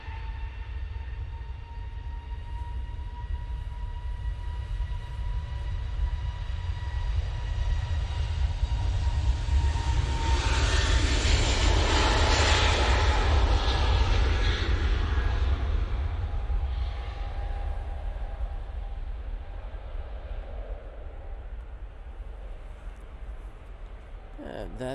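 A British Airways airliner takes off from Manchester Airport, a broad jet roar that builds to a peak midway and then slowly fades as it climbs away, with steady low rumble throughout.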